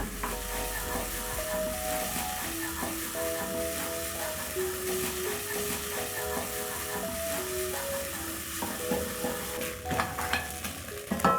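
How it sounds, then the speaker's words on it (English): Beef short ribs stirred in a pot on a stovetop, a steady scraping and sizzling that runs for about eleven seconds at moderate level, with no one talking. "Stir."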